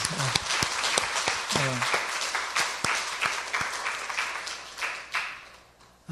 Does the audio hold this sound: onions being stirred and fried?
no